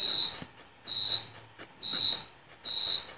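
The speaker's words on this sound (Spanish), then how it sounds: "Y dale con el grillo, dale con el grillo." A cricket chirping in the video game PUBG Lite, four evenly spaced high, sustained trills with short pauses between, clear and fairly loud with no talking.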